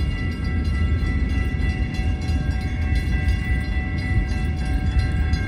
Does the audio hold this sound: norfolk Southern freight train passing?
yes